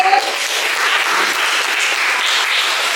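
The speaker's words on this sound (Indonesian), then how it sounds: "Kita beri aplaus dulu untuk Suci" A classroom of students gives a round of applause, steady clapping from many hands throughout with a few brief voices at the start.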